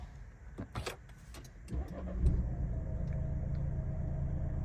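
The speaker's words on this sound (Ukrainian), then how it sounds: "Заводиться автомобіль з кнопочки" A 2018 Nissan X-Trail engine, started by push button, cranks and catches after a few clicks and clunks, then settles into a steady low idle, heard close up inside the vehicle.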